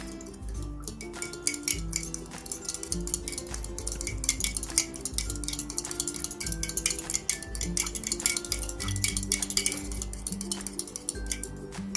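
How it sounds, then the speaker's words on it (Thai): Utensil clinking and scraping around a bowl as French toast egg mixture with milk is stirred, a steady run of close metallic taps and chinks with no talking. "แล้วเราก็ คนเข้าไปนะครับให้ส่วนผสมมันเข้ากันอีกครั้งหนึ่งครับ"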